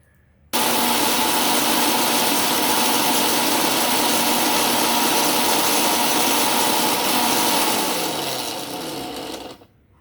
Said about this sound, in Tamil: இந்த மாதிரி மிக்சியில் போட்டு பொடி செய்ய வேண்டியது தான்.